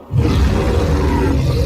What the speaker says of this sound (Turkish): Kurt. Bizi ısıran kurt.